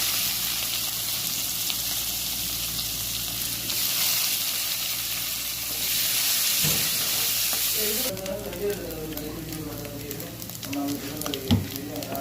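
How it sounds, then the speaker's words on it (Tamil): Mustard seeds, curry leaves and onion fry in oil for sambar rice, a loud continuous sizzle with stirring scrapes and a brief knock, while voices murmur in the background. "கடுகு நல்லா பொரிஞ்சிட்டு கருவேப்பிலை சேர்த்துருக்காங்க வெங்காயம் சேர்த்துருக்காங்க"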